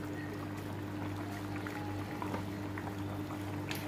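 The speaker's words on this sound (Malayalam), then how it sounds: "അപ്പോൾ നന്നായിട്ട് തിളച്ച് ഇപ്പം വന്നിട്ടുണ്ട്" Mackerel curry in coconut milk bubbles in a pot, a soft, steady boil with faint popping beneath a constant low hum and no voices.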